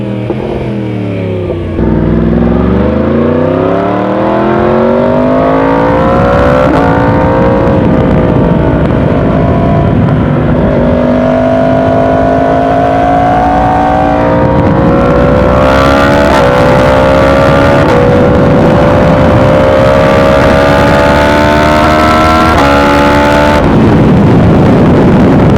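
A 2020 Yamaha R1 sport bike engine on a solo ride, droning loud and steady throughout with rising and falling pitch as it accelerates through gears, wind rush underneath.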